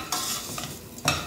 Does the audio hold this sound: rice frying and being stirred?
yes